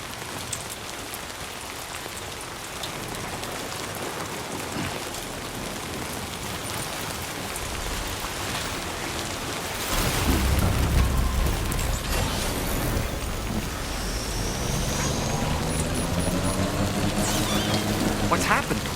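Heavy rain in Death Stranding 2 pours steadily throughout, with a deep rumbling surge like thunder midway and a louder, denser wash of rain and low rumble afterward.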